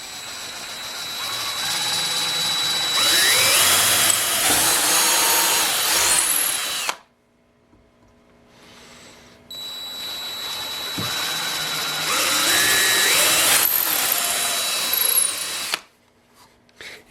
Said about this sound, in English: try to drill it as straight as possible.